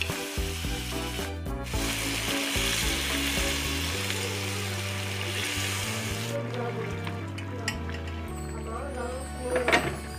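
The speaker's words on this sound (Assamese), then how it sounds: "পিঁয়াজ আৰু নহৰু হালধি দুই চামুচ আৰু আদা দি দিলোঁ আৰু এইখিনি অলপমান ভাজি" Onion, garlic, turmeric and ginger fry in a pan with a steady broadband sizzle, largely masked by continuous background music with tonal melody throughout.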